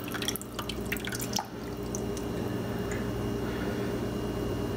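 Water running and dripping in a sink while a Dyson SV03 V6 Slim vacuum filter gets a second rinse bath with fresh water, a steady close wash with scattered drips throughout, no voices.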